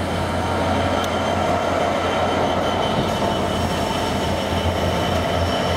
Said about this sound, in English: I think it's XDRS on a Freightliner heavy haul train.